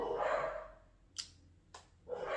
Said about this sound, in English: don't worry about my dog i can't help it